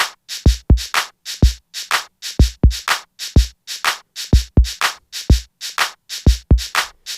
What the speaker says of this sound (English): now that I recorded a clap and a kick together with the hi-hats or the shaker